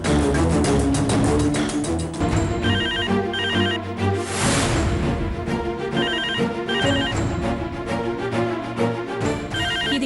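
A landline telephone rings with a loud, repeating electronic tone pattern that runs continuously throughout, with no talking over it.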